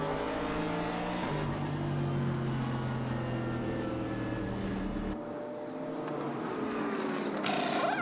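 GT race car at Okayama circuit accelerating and braking through a left-right sequence of corners, engine note rising and shifting and then dropping away, fairly faint with no talk.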